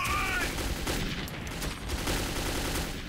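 Gunfire in the post-apocalyptic shooter game Metro 2033, a dense, continuous rattle of shots with a short electronic tone at the start.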